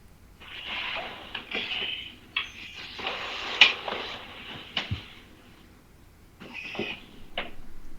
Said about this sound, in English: hear that meow again